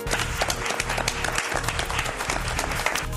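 Applause fills a room at a water utility's announcement that a major water outage in southern Prince George's County was averted, with dense, steady clapping over a low hum and a brief dip partway through.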